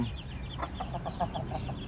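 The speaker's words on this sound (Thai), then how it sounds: "ตัวนี้เป็นไก่หนุ่มอายุ6เดือนนะครับ" A six-month-old young rooster clucks in a quick series of about eight short, clipped notes over a low farmyard background hum, heard fairly close.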